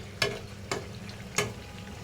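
Olives dropped into a fish curry cooking in a pan: three sharp splattering bursts over a low steady sizzle, close by.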